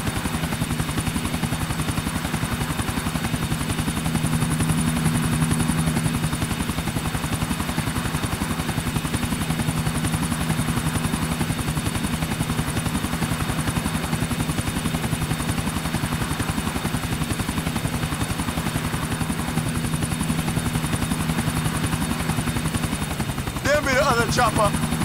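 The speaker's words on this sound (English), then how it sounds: "Chopper, stick to him, Nico." A helicopter in the video game GTA IV drones steadily throughout with a loud, continuous rotor thump and engine whine, close and unbroken, ending in a brief clatter near the close.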